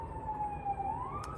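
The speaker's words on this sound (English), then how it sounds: "sorry, there's sirens." A single emergency vehicle siren wails at a distance outdoors, its tone slowly falling and then rising, heard over a low background hum.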